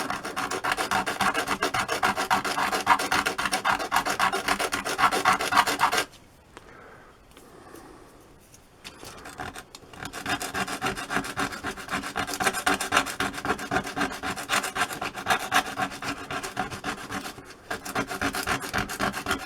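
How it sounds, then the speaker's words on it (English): Steady rasping strokes as the ends of a handmade hairpin are sanded smooth, loud and continuous with a brief quieter pause in the middle before the rubbing resumes. "I'm just going to take and sand these ends down"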